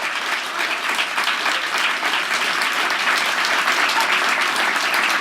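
An audience at a Moth storytelling night applauds as the fourth storyteller takes the stage, a steady, dense wash of many hands clapping throughout.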